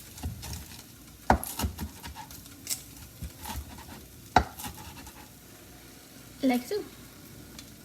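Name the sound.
bacon frying in a pan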